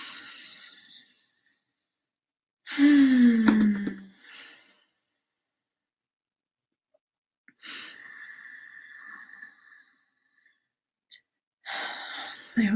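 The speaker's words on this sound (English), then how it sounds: "let's take a couple big, deep breaths together" Slow, deep breaths in and out, close and audible, come in separate long drawn waves with quiet gaps between them.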